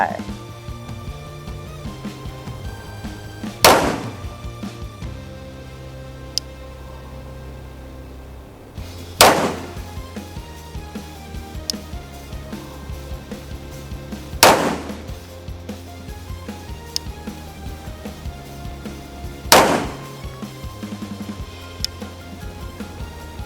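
Four sharp, loud gunshots from a Rock Island Armory TAC Ultra FS HC 1911 pistol in 9mm, fired singly about five seconds apart on a shooting range, with low background noise between the shots.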